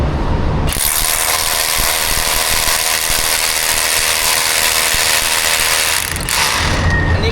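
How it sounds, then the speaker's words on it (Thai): Loud, continuous rattling drone of a Milwaukee rotary hammer boring into concrete, harsh and gritty, running steadily before cutting off briefly near the end. "แล้วเวลาที่เราจะเจาะปูนเนี่ย ดูฝุ่นนะครับ"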